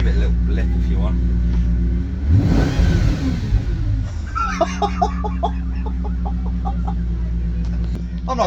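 A fast motorized shed revs its engine in a quick blip that rises and falls over a steady idle rumble, while people talk nearby before and after.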